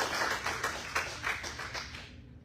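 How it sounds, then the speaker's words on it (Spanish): A church congregation applauds for a sustained stretch, many hands clapping together in a dense rhythmic wash that fades out at the end, with no speech over it. "Dale un aplauso al Señor Jesús"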